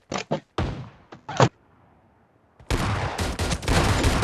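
In PUBG Mobile, sharp bursts of gunfire crack out in a few quick volleys, fall to a brief quiet, then give way to a dense, sustained rattle of automatic shots up close.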